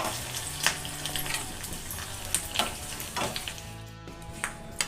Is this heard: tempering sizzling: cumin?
yes